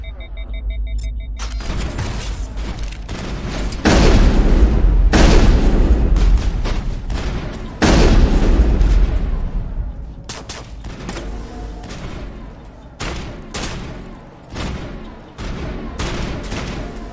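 Gunfire and explosions from the video game Mass Effect on PS3: loud bursts of rapid shooting and deep booms in waves, with sharp cracks between and occasional electronic tones, no talking.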